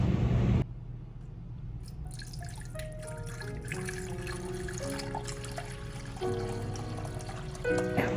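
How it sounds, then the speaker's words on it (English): A brine of salt and sugar mixture pours into a saucepan, starting with a brief splash and then a long steady trickle whose pitch slowly rises as the pan fills, close and fairly quiet. "Now we're gonna take a saucepan and we're gonna pour our mixture into it"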